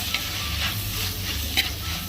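Pazhampori frying in a pan while being stirred until browned for a Kerala-style meal: a steady loud sizzle with scraping stir strokes and occasional sharper clinks, no voices.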